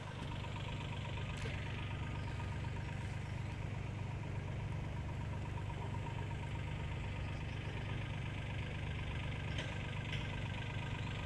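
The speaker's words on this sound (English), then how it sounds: "You just see a tractor there" A tractor engine idles and runs steadily in the distance while mowing of long grass gets underway, a continuous low rumble with mechanical knocking that persists without a break under faint outdoor ambience.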